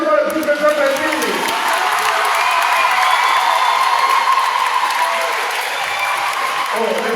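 Schoolchildren at a back-to-school church mass in a Saint Louis Marie Grignion de Montfort parish give sustained, loud applause that fills the space throughout, with cheering voices mixed into the crowd noise.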